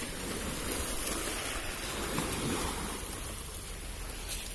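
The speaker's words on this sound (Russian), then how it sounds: "И хочу, чтобы вы опять насладились шумом волн." Steady wash of Atlantic Ocean waves rolling onto an English shore, a continuous broadband surf roar with slight surges and some wind, no voices.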